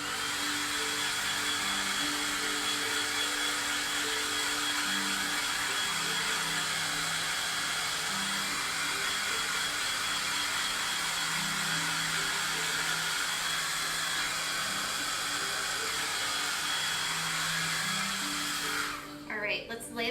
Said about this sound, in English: I'm going to give it another dry, make sure it's really nice and dry.